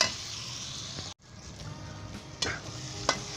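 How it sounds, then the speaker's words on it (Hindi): Tomato masala frying in a pan for a Punjabi egg bhurji makes a steady close sizzle, broken once by a brief silence, with a couple of sharper crackles near the end. "इसे मज़ीद 2 से 3 मिनट के लिए अच्छे तरीके से भून लें"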